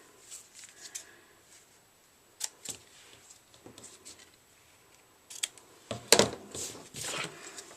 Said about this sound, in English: Now I'm ready to just cut off those tails.